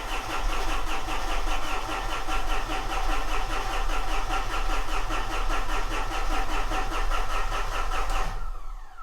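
A Fuso 4P10 truck engine that will not start cranks steadily for several seconds, a rapid, rhythmic churning of the starter, loud and close, then cuts off abruptly without catching.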